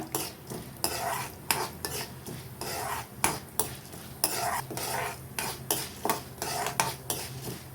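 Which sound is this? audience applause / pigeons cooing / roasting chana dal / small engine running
roasting chana dal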